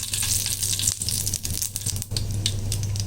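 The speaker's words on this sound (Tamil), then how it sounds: "பேனில் எண்ணெய் ஊற்றி கடுகு உளுத்தம் பருப்பு போட்டிருக்கேன். இது பொரியட்டும்" Mustard seeds and urad dal fry in hot oil in a pan, giving a steady close sizzle with faint crackle and a few brief dips, no voices.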